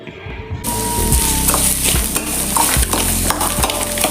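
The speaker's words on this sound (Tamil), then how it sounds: "வெங்காயம் நல்லா வதங்கட்டும்" Onions sautéing in oil with salt in a pan for a chicken varuval, a loud continuous sizzle with scraping stirs and occasional utensil knocks against the pan.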